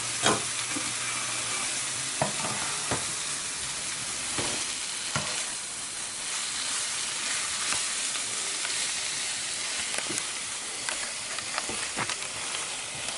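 Sliced onion sweats and fries in a pan with a loud, continuous crackling sizzle, broken by occasional sharp stirring clicks and scrapes close by.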